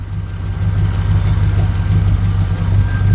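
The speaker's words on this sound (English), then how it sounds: "So again, the engine's running really quiet." An LS V8 with a cross-draft injection system and new fuel rails idles close by on its first start-up, a steady low rumble with a slight rhythmic pulse and no talk over it.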